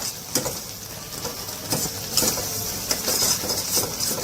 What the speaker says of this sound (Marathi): तिळाचं कूट थोडा फ्राय झाला